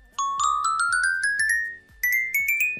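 Minecraft note block bell sound played on a gold block: bright chime-like tones in a rising run of about ten quick notes, clear and alone, with a short pause before a second rising group.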